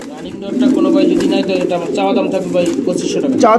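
Several pigeons coo steadily inside a coop, their overlapping throaty calls close and fairly loud throughout, with a voice briefly speaking nearby.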